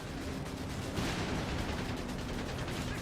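Gunfire from an aircraft strafing run crackles in a dense, continuous barrage in a wartime strategy video game, with distant booms and battlefield noise throughout.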